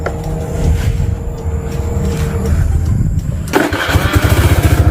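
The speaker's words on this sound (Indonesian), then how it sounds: "Sekarang saya akan coba hidupkan motornya terlebih dahulu." A motorcycle engine cranking over and then catching, settling into a fast, throbbing idle, loud and close with no talking.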